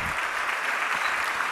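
A church congregation claps loudly in a dense, steady burst of applause that fills the whole moment without a break.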